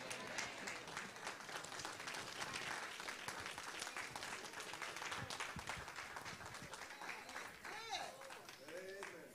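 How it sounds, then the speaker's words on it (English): A church congregation applauds steadily in praise, dense rapid clapping filling the room, with voices speaking and calling out over it toward the end. "let's give God another hand clap of praise"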